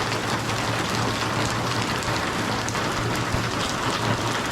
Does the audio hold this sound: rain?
yes